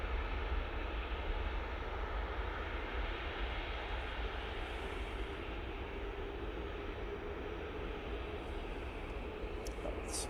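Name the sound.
SAS aircraft departing from Manchester Airport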